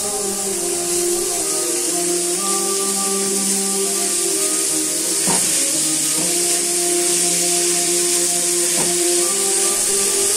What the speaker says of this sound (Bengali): তারপর লাউ কাটাগুলো ঢেলে দিলাম এবং নেড়ে দিলাম।